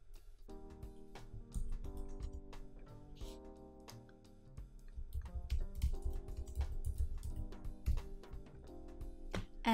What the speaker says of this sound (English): Now type in your question.